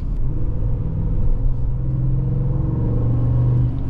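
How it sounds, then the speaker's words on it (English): A 2023 Ford F-150 XL pickup with the 5-liter Coyote V8 gives a deep, steady engine rumble while driving, close and loud, with the tone swelling slightly midway and no talking. "Nice deep baritone rumble out of that 5-liter V8."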